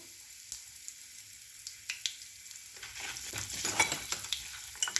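Urad dal fries in hot oil for potato masala, giving a quiet crackling sizzle with small scattered pops that thickens and grows busier toward the end, with no speech.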